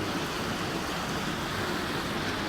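Heavy rain falls on a residential subdivision as a constant, loud hiss and roar, steady from start to finish.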